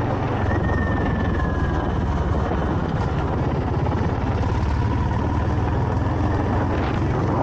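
A Honda CB350 RS motorcycle engine runs during a test drive, giving a steady, loud, low rumble that holds unchanged for the whole stretch with no pauses.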